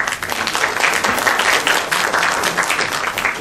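Sustained audience applause fills a hall at the 2013 Korea Hanok Design Competition award ceremony, a dense, even wash of many hands clapping close and loud for several seconds without a break.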